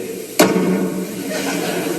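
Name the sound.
voice imitating period punctuation sound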